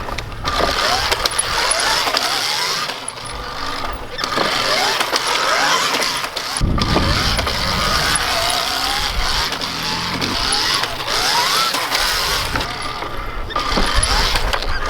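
An Alta electric dirt bike whines under repeated throttle bursts as its rear tire spins on soft ground, loud and continuous with rising and falling pitch sweeps, close to the rider.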